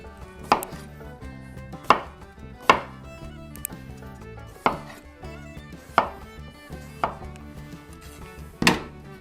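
A knife chops through potatoes on a cutting board, halving them, sharp thuds landing one after another at a steady, unhurried pace, close and clear.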